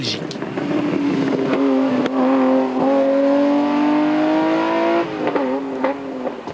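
A BMW rally car, a former Trophée Andros machine of about 283 horsepower and just over 900 kilos, roars past on a rally stage, its engine note climbing loudly and then fading as it goes by, with a voice talking over it.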